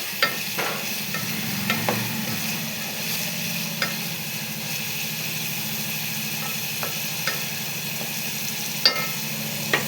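Ridge gourd peel frying in hot oil in a pan, a steady soft sizzle with a low hum underneath, broken by scattered scrapes and clicks of a spoon stirring, no voices.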